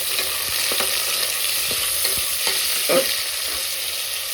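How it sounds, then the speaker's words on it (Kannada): Chopped onions fry in hot oil with whole spices and kasuri methi for a Mysore-style pulao, a loud continuous sizzle with soft scraping stirs mixed in. "ಈರುಳ್ಳಿ ತುಂಬ ಚೆನ್ನಾಗಿ ಫ್ರೈ ಆಗಬೇಕು"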